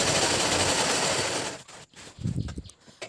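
A sewing machine stitches a homemade blanket storage bag, rattling fast and steadily up close for about a second and a half before stopping, followed by a few softer handling knocks.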